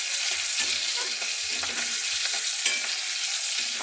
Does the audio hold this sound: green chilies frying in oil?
yes